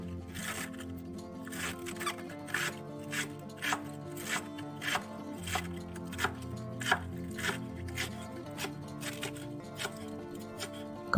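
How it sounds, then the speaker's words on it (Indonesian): Knife chopping celery leaves and cabbage on a cutting board, a steady run of crisp, evenly spaced cuts, close and clear, with no talking. "Sekarang kita iris daun seledrinya. Kita iris juga kol."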